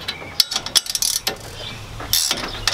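Wrench undoing 5/8 bolts on a Green Touch trimmer rack outdoors: a series of close, quick metallic ratcheting clicks in short bursts, with clinks and pauses between, over faint wind.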